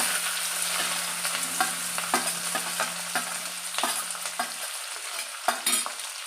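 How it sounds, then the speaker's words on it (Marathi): Chopped capsicum stir-fried with mustard seeds and curry leaves in hot oil sizzles steadily up close, while a spatula scrapes and stirs in irregular strokes throughout. "शिमला मिरची मऊ होईपर्यंत आपल्याला याला छान परतून घ्यायचं आहे"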